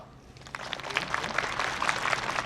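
Audience applause at a university entrance and vision ceremony, a steady wash of clapping that builds slightly and holds throughout, fairly close and dense, with no talk over it.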